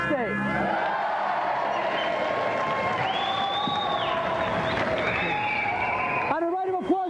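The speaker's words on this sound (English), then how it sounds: "a round of applause again for Tony Wright!" Studio audience on a game show clapping and cheering for a player at Gamesmaster, a steady dense wash of applause under music-like tones, fading out near the end as a voice begins.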